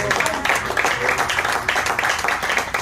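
Congregation at a church service giving loud, sustained applause, dense rhythmic clapping throughout with no talk over it.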